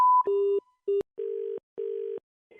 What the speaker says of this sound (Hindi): अरे नायर फोन काट